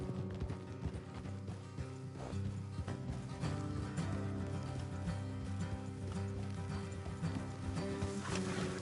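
Rhythmic clip-clop of horse hooves at a quick pace in Red Dead Redemption 2, mixed with creaking, ratcheting tack sounds, steady and moderately quiet throughout.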